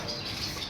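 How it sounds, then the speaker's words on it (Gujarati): Small pet sparrow-like birds chirping indoors in a home kept by a bird-keeping uncle, a brief soft burst of high tweets over a low room hum, with no talk. "કાકા ચકલીનો પાડવાના શોખીન છે એટલે જો કાક નવું ચકલું લઈ આવ્યા છે"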